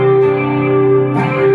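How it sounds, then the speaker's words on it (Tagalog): Electric guitar with overdrive added on a Mvave Tank G pedal, one thick sustained chord ringing loud and close, then a fresh strum near the end. "So pag dinagdagan ko siya ng overdrive."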